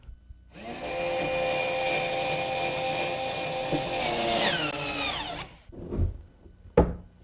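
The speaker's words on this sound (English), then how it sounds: "I drill a pilot hole in the pull" A power drill whirs steadily into a wooden drawer pull, drilling a pilot hole for several seconds, its pitch dropping as it winds down, followed by a couple of short handling knocks.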